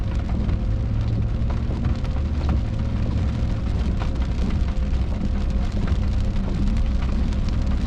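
Steady rain pours down around a campsite as the tent and gear are packed up, a dense, continuous hiss and patter with low rumbling undertones, loud and close throughout with no voices.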